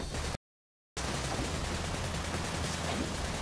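Sustained rapid gunfire in Sunset Overdrive, dense continuous shooting broken by a brief dead gap of silence before the barrage resumes at steady loudness.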